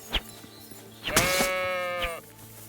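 Sheep bleating in the video game Kingdom Come: Deliverance 2, one clear sustained wavering bleat lasting about a second, with brief quieter bleat onsets before and after, over faint low ambient game sound.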